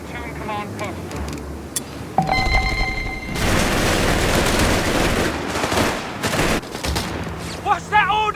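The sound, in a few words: gunfire in the video game Company of Heroes 3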